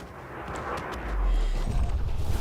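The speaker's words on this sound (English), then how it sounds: "I love the sonic wave that comes off that explosion" A spaceship explodes in the space combat game Elite Dangerous: a deep, rumbling low-frequency boom swells after the first second and keeps rolling on loudly to the end, with no talking over it.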